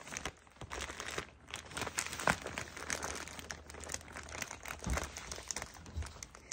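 A diaper bag is unpacked from its plastic packaging, giving continuous close crinkling and crumpling of plastic with a few sharper tearing rustles throughout.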